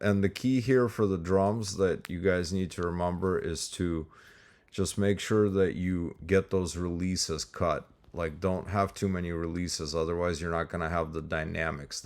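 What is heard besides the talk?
No distinct noise like a dog, phone or traffic.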